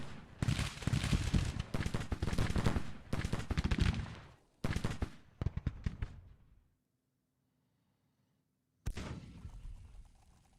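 Civil War gunfire and artillery in Grand Tactician, dense crackling volleys of musketry with heavy booms in loud bursts, then a few seconds of near silence before another burst starts.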